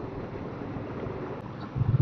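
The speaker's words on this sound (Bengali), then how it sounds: "ভোরের এই ঠান্ডা হাওয়া" Cold dawn wind rushes past during a motorbike ride near Bangriposhi, Mayurbhanj, a steady low rumble of wind noise with a brief louder gust at the end.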